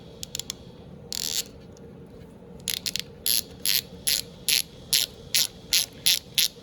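A ratchet tightening a coil clicks in short bursts, a few scattered strokes and then a steady rhythmic series of quick ratcheting pulls, close and clear over a quiet room.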